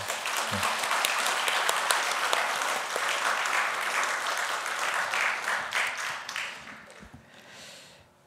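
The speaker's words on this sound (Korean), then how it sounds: "우리 좀 감사의 박수를 올려드렸으면 좋겠습니다" A congregation at a church's 14th anniversary thanksgiving service applauds in thanks, a full, dense round of clapping that holds strong for several seconds before gradually thinning and fading out.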